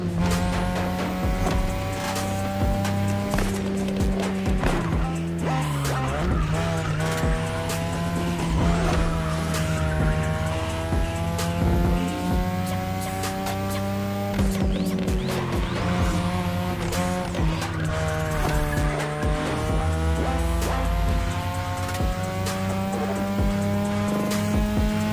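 Cars race in The Crew Motorfest with loud, rising and falling engine whines that shift through gears, mixed with scattered tire squeals and skids and no talking.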